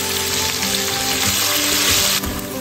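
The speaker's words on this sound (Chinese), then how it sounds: "一勺豆瓣酱，用小火慢慢炒出红油" Hot pot base, chili bean paste, scallion, ginger, garlic, Sichuan peppercorns and dried chilies fry in hot oil over low heat, giving a steady, close, dense sizzle with a brief stir near the end and no talking.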